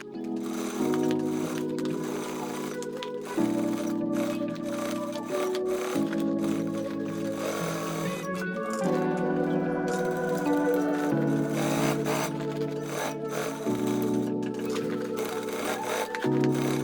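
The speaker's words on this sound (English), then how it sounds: "Now I will sew these parts together." Sewing machine stitching backpack panels cut from waste paper, a close mechanical hum playing under steady background music for the whole stretch, with the stitching motor running fairly continuously.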